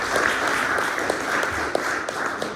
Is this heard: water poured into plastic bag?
no